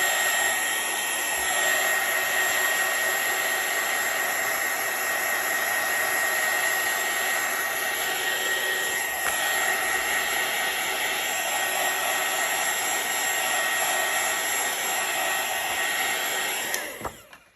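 A dryer blows steadily on a freshly painted watercolour card, a continuous close whirring hiss that holds for about seventeen seconds before switching off abruptly.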